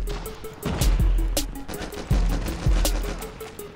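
Pistol shots in the mobile shooter Call of Duty Mobile come as sharp, irregular single cracks over a steady game background hum, fairly close and loud.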